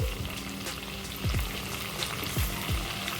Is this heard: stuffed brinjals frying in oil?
yes